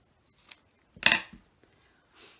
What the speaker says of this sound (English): Let me trim that a little bit more